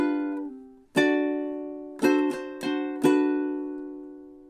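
A ukulele played close up and gently, two measures of a Hawaiian tune, Loke Lani, built from ringing chord strums with a quick triplet flutter in the middle and each chord decaying between strokes.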